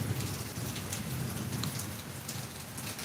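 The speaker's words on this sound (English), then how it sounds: "I was just saying it is raining. Rain all day." Steady rain falls all day, a dense, even hiss of drops spattering on surfaces, close and continuous with no voices over it.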